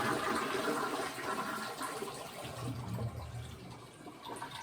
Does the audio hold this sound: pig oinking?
no